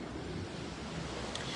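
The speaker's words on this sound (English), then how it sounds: "The wind is blowing." Strong wind gusting across a pool deck by the sea, a dense, steady roar of wind buffeting the microphone mixed with surf wash, loud and unbroken.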